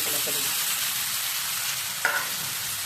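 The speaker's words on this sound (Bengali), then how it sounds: "পেঁয়াজ কাঁচা লঙ্কাটা ভাজা ভাজা হয়ে গেছে" Onion and green chilli frying in a pan make a dense, continuous sizzle at close range, with a single utensil tap near the end.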